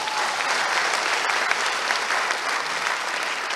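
A crowd at a public speech breaks into sustained applause, dense and even clapping that fills the space throughout, with no voice above it.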